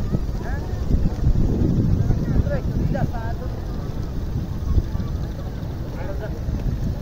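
Strong wind gusting steadily at an open spot where crowds gather for the breeze, a dense low rumble buffeting close to the microphone with faint voices and activity in the background.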